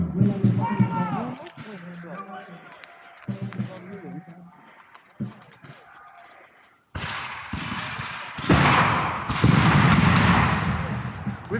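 Shouted commands and voices at a Battle of Camden reenactment give way to several heavy booming blasts of cannon fire, loud and close, with rumbling echoes between them.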